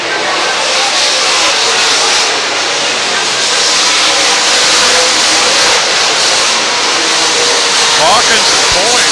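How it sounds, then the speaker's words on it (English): Late model race cars roar around the State Fair Speedway oval in a continuous loud engine drone with rising and falling revs, a commentator speaking over the noise. "Maybe the fastest car out there right now is the car 86 of Imhoff"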